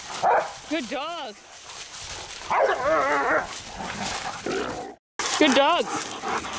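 Hunting dogs trailing a wild boar after dark give bursts of high, wavering yelps and baying at mid distance, interrupted briefly, while people talk over and between the calls.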